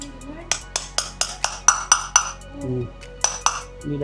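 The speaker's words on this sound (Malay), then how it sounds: "Itu kena ketuk lah bagi dia rapat ke dalam." Metal tapping as a bearing is knocked into a Honda Vario scooter pulley until seated: a steady series of about a dozen sharp, close ringing taps, with a brief pause in the middle and a low hum underneath.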